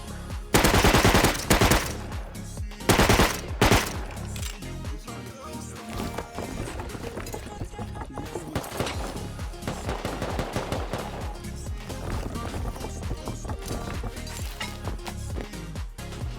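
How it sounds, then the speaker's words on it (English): Gunfire in the survival game Rust: rapid automatic bursts crackle loudly near the start, followed by a dense, continuous spread of shots from several directions at varying distances. "Hearing shots in every direction"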